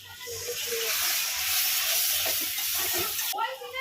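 Steady loud hiss and sizzle as water hits a hot pan with chilli powder and cumin powder, continuous for several seconds and cutting off near the end, with a voice talking faintly underneath.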